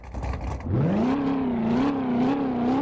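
A Corvette C7 Stingray engine revs up after a short lull, its loud, close drone rising and then holding with gentle wavering swells of pitch.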